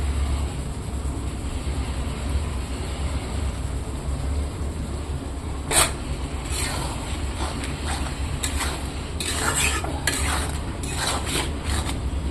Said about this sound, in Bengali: এখানে আমি এখন ভাজা রাখা সয়াবিনটা দিয়ে দেবো।